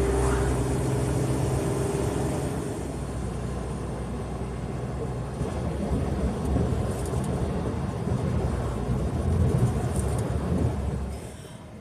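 A car drives along the outskirts of a town, its low, steady road rumble and engine drone filling the cabin at a loud level, with a brief drop in noise partway through.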